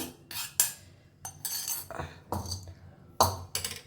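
A spoon scrapes and clinks against a bowl in short, irregular bursts as roasted semolina and cashews are mixed together, close up and fairly quiet, with no talking.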